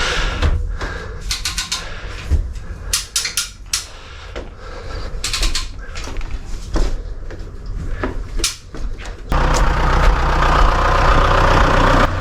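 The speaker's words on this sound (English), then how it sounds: "Give it some more cranks." A Honda XR250R motorcycle engine cranks hard in a basement with clattering, ratcheting mechanical strokes, then catches and runs at a loud, steady drone for the last few seconds.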